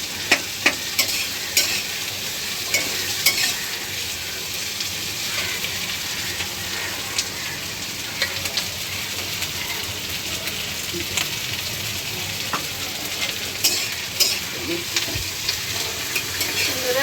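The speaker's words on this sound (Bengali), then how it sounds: "এখন আমি পেঁয়াজটা ভেজে নেব।" Onion frying in a pan with whole spices for a Bengali-style chicken dish, a steady close sizzle with scattered spattering pops throughout, no voices.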